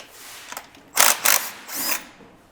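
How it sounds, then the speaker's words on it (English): Cordless impact wrench with a 13mm socket backing out foot peg bracket bolts on an RFN Ares Pro dirt bike, two short loud rattling bursts followed by a softer, longer whir, close up with no talking. "we're going to take our 13mm socket and our impact"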